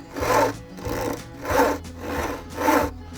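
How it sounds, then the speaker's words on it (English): A hand saw cuts a piece of wood in slow, even strokes. About five rasping pushes and pulls come in a steady rhythm, close up and clear with no talk. "I use my knuckle to rest my saw on, and then when I draw back, it doesn't go up and down the piece of wood"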